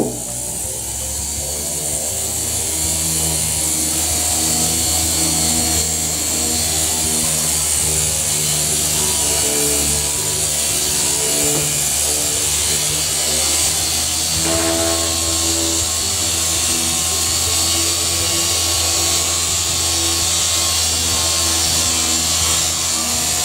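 A power polisher scrubbing water scale off a bathroom mirror, running continuously with a steady loud mechanical whine and buzzing tone that holds for the whole stretch, up close and alone.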